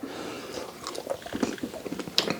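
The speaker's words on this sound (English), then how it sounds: "Let's try some of the walnuts as well and try some of these, Cobes." Someone bites into and chews the walnuts from honey walnut shrimp, producing close, irregular crunches and moist chewing sounds with no talk.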